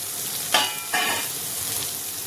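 Onions frying in a pan while rajma rice is being cooked, a steady close sizzle with two brief louder bursts of stirring or crackle, and no talking.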